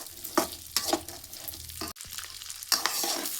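Dry fruits frying in ghee in a pan, stirred with a spoon in a few scraping strokes over a soft continuous sizzle, close and fairly loud, with no talking.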